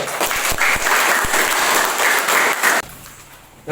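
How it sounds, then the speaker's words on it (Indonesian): A classroom of students gives group 1 a round of applause, dense sustained clapping that cuts off abruptly near the end, leaving quieter room sound. "Kita kasih aplaus ke kelompok 1"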